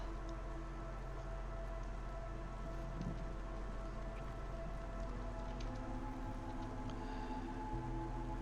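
Acid rain falls steadily in the video game Against the Storm, a continuous hiss of raindrops that fills the whole clip at an even, moderate level with no voices.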